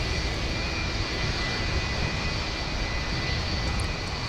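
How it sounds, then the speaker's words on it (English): At Minneapolis–St. Paul airport, Rolls-Royce RB211 engines on a FedEx Boeing 757-200 freighter hold a continuous engine run: a constant heavy roar with deep rumble and a thin high whine, even in level and alone. "The Rolls-Royce RB211. FedEx doing some engine runs on one of their 757-200 freighters."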